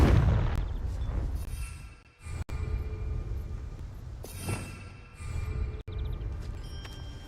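Confringo fire spell blasts in the Hogwarts Legacy game world, heavy booming bursts with rumbling tails, an opening blast followed by two more separated by sharp breaks, loud and close.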